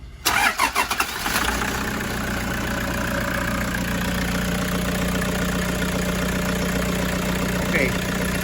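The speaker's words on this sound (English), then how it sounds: "Start this engine." A 2016 Toyota engine cranks and catches, then settles into a steady, close idle with a low hum and faint ticking. A voice speaks briefly as it starts.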